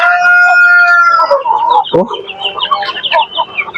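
Native and Rhode Island Red chickens crow and cluck close by, a long rooster crow at the start breaking into a busy run of short clucks and squawks.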